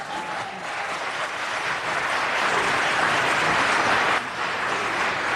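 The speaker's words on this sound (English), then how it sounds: "You should clap for that." Steady, dense applause fills a Los Angeles city council meeting chamber, a continuous broadband clapping from many hands at moderate level, with little talking over it.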